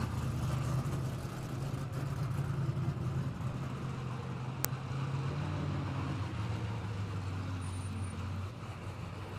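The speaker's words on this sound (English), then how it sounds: "nothing like the sound of the roar of the big bore of the Pro 2s." Big-bore Pro 2 off-road race trucks roar with a steady, loud low engine drone at a championship qualifying event, the sustained rumble filling the whole stretch with a brief sharp tick near the middle.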